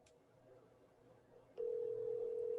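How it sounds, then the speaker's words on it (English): A telephone call rings out over a quiet, faintly murmuring room: a single clear, steady electronic ringing tone starts partway through and holds to the end. "Oh shit, it's ringing."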